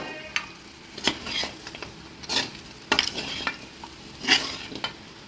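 Pepper chicken masala with onions is stirred in a pan for a dry pepper chicken. A close, continuous sizzle runs throughout, broken by repeated sharp spatula scrapes and knocks against the pan.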